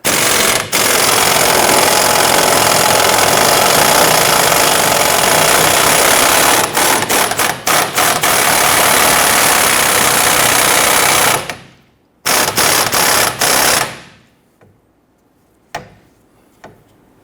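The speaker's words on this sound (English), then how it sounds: "Now we want to go ahead and loosen and remove this bolt here." Loosening a 24mm rear strut bolt on a 2006-2010 Honda Ridgeline with a rapid impact gun, a long loud continuous rattling burst, then a few short stuttering bursts before it falls quiet.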